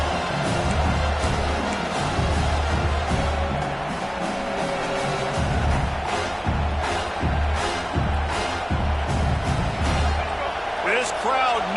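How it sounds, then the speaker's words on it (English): A stadium crowd roars in a college football video game, South Carolina against Alabama, a steady loud wash of cheering and noise carried under a commentator's continuous play-by-play. "This crowd knows when to bring it"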